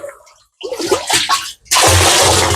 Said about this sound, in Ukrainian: йдемо в бочечку, набираємо води